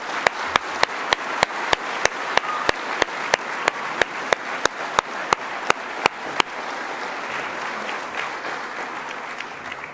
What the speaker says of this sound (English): Graduates, would you please join me in a round of applause for all the staff?